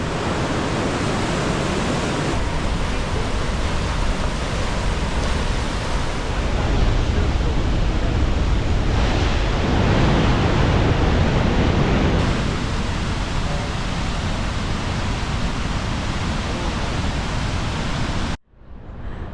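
River rapids rush near falls in New England in autumn, a loud, steady roar of churning water that fills the whole stretch and cuts off abruptly at the end.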